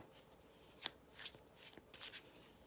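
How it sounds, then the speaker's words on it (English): Tarot cards being shuffled by hand, four or five quiet riffling bursts in quick succession, close and soft, with no talking. "The cards are talking to me, so I'm just going to shuffle."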